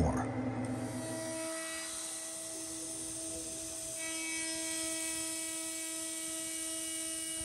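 A milling machine cuts aluminum at a very shallow 0.03 mm depth of cut, giving a steady high-pitched whine with sustained tonal ringing and a faint grinding texture underneath. A voice speaks briefly at the start.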